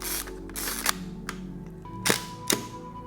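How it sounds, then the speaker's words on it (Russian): A Hasselblad 500CM medium-format film camera with a leaf shutter fires a few crisp mechanical clicks and clacks, close and dry, with faint winding noises between them and no talk. "Это легендарный среднеформатный пленочный Hasselblad 500CM с 6-сантиметровой квадратной матрицей, апертурным затвором, пентапризмой и влюбляющим в себя звуком затвора."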